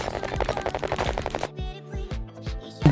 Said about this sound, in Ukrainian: А чого вони стріляють?